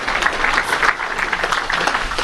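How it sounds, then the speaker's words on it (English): A crowd applauding at a Texas Tech football coach introduction event, a dense, continuous patter of many hands that stays steady throughout. "Clap for Regent Griffin."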